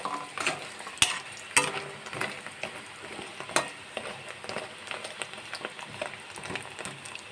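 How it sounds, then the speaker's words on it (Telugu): Chekodi and vadiyalu fry together in hot oil over medium heat, a steady close crackle and sizzle broken by the sharp clatter of stirring; no one speaks. "ఇవి కూడా ఈ చెకోడీలు కూడా దీనిలో వేసేస్తున్నాయి. వేసేసుకుని ఈ రెండు కలిపి వేగనిద్దాం."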